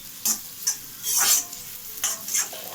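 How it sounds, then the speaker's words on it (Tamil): Sliced onions fry in hot oil in a pan for street-style chicken noodles, with a crackling sizzle and several separate scraping strokes of a spoon stirring them close up, no voices. "இந்த வெங்காயத்தை முக்கால்வாசி நல்லா ஃப்ரை பண்ணி விட்டுறணும்."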